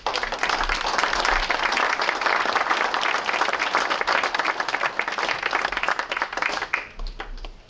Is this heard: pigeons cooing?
no